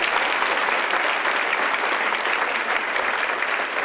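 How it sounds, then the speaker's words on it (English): An audience at a United Way community breakfast claps for award winners, dense sustained applause from many hands filling the room, even and loud throughout with no speech over it. "another round of applause for all our award winners this morning"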